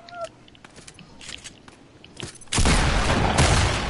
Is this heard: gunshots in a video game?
yes